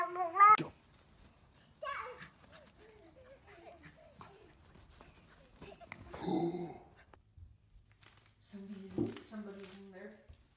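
A puppy whimpers and yips in short bursts, with soft growly noises between, and people talking nearby.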